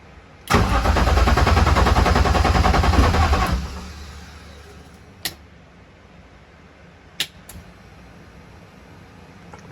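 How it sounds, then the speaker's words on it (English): A BMW E36 engine cranks and fires right after a head gasket replacement, a loud broadband roar for about three seconds that drops to a low idle, with two sharp isolated backfire pops following. "it did a little backfire"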